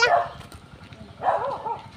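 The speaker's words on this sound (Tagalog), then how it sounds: "May mga aso." A dog barks sharply twice, once at the start and again a second later, fairly close, over a low background rumble.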